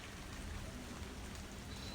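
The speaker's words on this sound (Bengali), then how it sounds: "আর বৃষ্টির ফোঁটা শব্দগুলো তো সেই রকম লাগছিল" Steady rain pattering outdoors during a downpour at a lily and lotus wetland, dense raindrops hitting surfaces in an even, continuous hiss with no voices.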